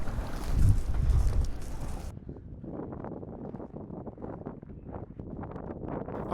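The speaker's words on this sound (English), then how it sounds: "this building was being hit by a whiteout blizzard" A whiteout blizzard battering an abandoned building: heavy, close wind buffeting roars at first, then drops to a lower, gusting rush that keeps pulsing, with no speech.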